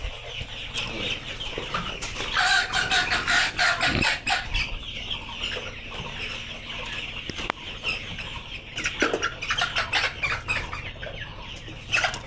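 Chickens on a poultry farm holding about 1150 birds cluck steadily in a dense flock, with occasional sharper calls and a rooster crowing over the continuous background clatter.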